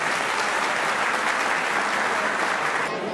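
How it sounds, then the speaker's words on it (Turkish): Audience applause at an event, a dense, continuous wash of many people clapping at steady loudness that drops off slightly just before the end. "bir alkış rica ediyorum"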